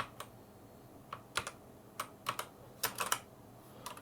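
Scattered keystrokes clack on a mechanical keyboard, irregular single taps and short bursts, close and fairly quiet with no talking.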